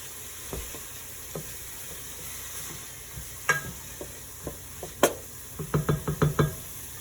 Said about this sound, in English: So you're gonna wanna let these cook down just for maybe a minute or two because you want the onions to be a little bit translucent.